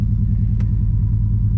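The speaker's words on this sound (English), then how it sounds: "Little Odin Supercharged Coyote cold start." A supercharged Coyote V8 in a Ford F150 rumbles after a cold start, a deep, loud, steady idle with a rapid pulsing burble and one brief sharp tick.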